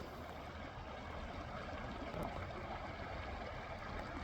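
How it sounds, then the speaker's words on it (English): A babbling brook flows near a secluded winter truck camp, a faint, continuous trickling wash with no other sounds. "just sit here and listen to the Babbling Brook"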